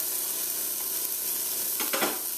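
Freshly ground black pepper toasts in a hot pot for cabbage with leftover stewed pork, giving a steady, even sizzle with a couple of short scraping stirs near the end.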